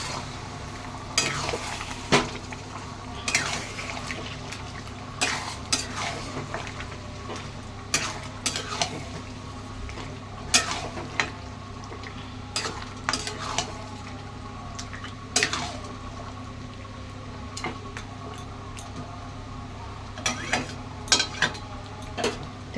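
Goat meat being stirred in a cooking pot, with repeated sharp scraping strokes of a spoon against the metal over a steady low sizzle, close and moderately loud, with no talking.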